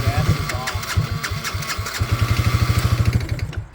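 A Yamaha Grizzly 80 ATV engine that is not warmed up cranks and catches, settling into a loud, rapid, uneven chugging idle close by, with people talking over it.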